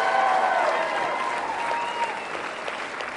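A crowd at an election night speech applauds steadily, sustained clapping filling the hall and slowly easing off.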